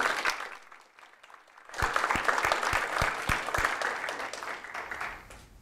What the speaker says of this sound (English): Please join me in giving our three guests a big round of applause.